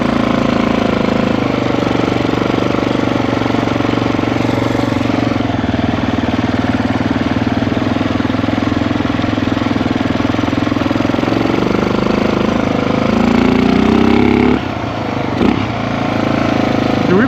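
Yamaha TT350 dual-sport motorcycle engine running steadily while being ridden, a loud continuous single-cylinder drone close to the microphone with a brief dip near the end.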